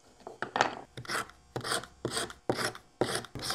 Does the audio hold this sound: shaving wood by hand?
yes